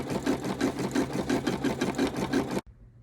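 Brother NV180 embroidery machine sewing a thick satin-stitch outline around a badge, a steady rapid mechanical chatter with regular pulsing beats that stops abruptly, leaving quiet.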